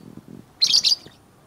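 Lovebird giving a quick pair of shrill chirps at close range, brief and bright, following a few faint low sounds.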